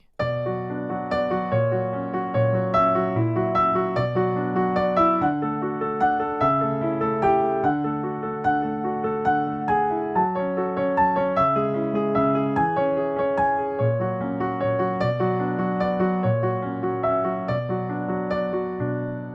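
A solo piano plays a gentle, flowing piece with steady chords and melody, moderately soft and continuous throughout.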